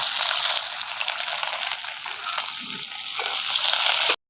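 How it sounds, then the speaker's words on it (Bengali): Whole garlic, ginger and green chilies frying in hot oil give a steady, close sizzle that runs alone for about four seconds before cutting off abruptly. "আর এই কাঁচা লঙ্কাগুলো এর মধ্যে দিয়ে একটু ভেজে নেব।"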